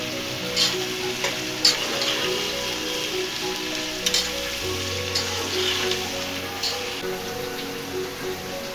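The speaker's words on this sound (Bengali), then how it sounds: "পেঁয়াজটা একটু লাল লাল করে ভেজে নেওয়া হচ্ছে এখন।" Onions frying in a pan, a steady close sizzle with scattered crackles and occasional stirring clatter, no talking.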